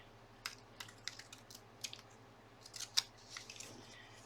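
Scissors snipping paper for a collage in a gluebook, a quiet series of short, crisp cuts in an irregular rhythm, close up with no talking.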